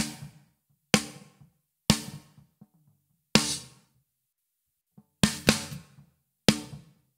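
A snare drum gated by the Black Salt Audio Silencer at default settings cracks out seven times with short, clipped tails and near silence between strikes, a couple of hits landing in quick succession.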